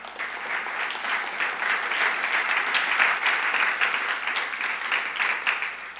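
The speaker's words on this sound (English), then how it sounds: "Can somebody just clap?" A church congregation claps during a sermon, a steady, full wash of applause lasting throughout with no break.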